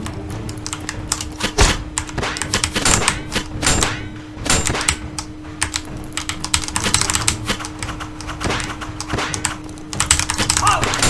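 Computer keyboard keys clack in quick, uneven bursts while someone plays the action game Shield Impact, loud and close throughout, with faint game sounds and voices underneath.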